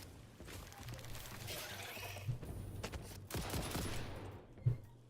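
Homing bullets fired in the factory-building game Satisfactory, soft rattling volleys of gunfire at a distance, low in level, with a few sharper thumps.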